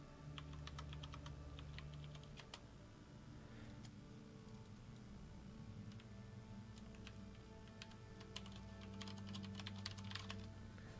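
Computer keyboard typing while logging into Battle.net, fast irregular bursts of clicky keystrokes over a steady low hum, with a pause in the middle before typing resumes near the end.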